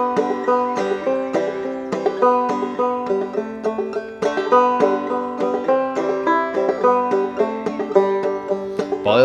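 Banjo picking the beginner tune Boil Them Cabbage Down, a bright, steady run of plucked notes and chords played close and alone for several bars.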